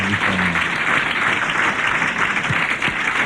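Studio audience applause on a 1990s French radio comedy panel show, a loud, continuous roar of clapping filling the whole moment, with a brief voice at the start.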